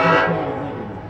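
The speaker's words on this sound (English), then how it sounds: "I love the train" A train passes near a high school junior varsity football game, its loud horn blaring in a sustained tonal blast that fades slightly over about a second.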